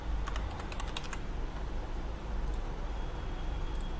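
Rapid clicking on a computer keyboard while a date of birth is entered into an online PAN card application form, with a quick run of keystrokes near the start and a few isolated taps later over a steady low hum.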